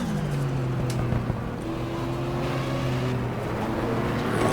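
A 1978 number 8 Porsche race car drones through a 1995 Daytona 24 Hour race in GTR2 at dusk, its steady engine tone holding and sliding gently in pitch, loud and continuous with no voices.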